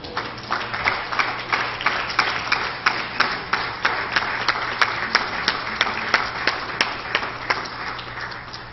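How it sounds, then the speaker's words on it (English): A Pentecostal church congregation claps hands in praise on youth night, a loud, rhythmic beat of steady, evenly spaced claps over a wash of applause that continues throughout. "Give the Lord a hand clap of praise."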